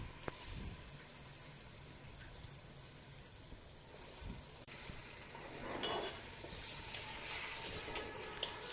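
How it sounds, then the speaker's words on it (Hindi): Beef frying in ginger garlic paste for nihari gives a steady, quiet sizzle and hiss. Faint stirring scrapes rise and fall over it, with no voices. "गोश्त को मैंने अदरक लहसुन के पेस्ट में फ्राई कर लिया है"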